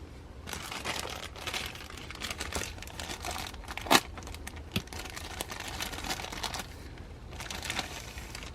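Plastic bag of chrome parts for a model car kit being torn open and handled, with close crinkling and rustling throughout and one sharp tearing snap partway through.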